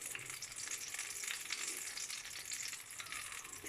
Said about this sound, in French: Alors nous allons finaliser la cuisson donc de nos champignons